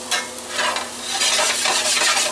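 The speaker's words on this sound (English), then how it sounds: "I'm going to put these on the back burner over there and just keep stirring them" Sweet potato home fries sizzling in a pan while being stirred, a close, loud crackling fry with scraping stir sounds throughout.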